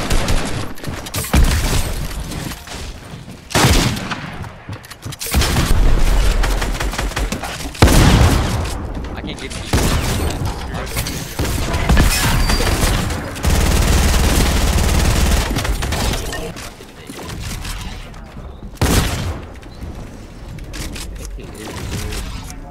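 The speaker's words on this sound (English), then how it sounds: "He just got sniped." Gunfire and sniper shots in Fortnite, heard as loud, sustained bursts of shooting with sharp cracks. The firing runs through most of the stretch and is broken by a few quieter gaps, with excited voices talking over it.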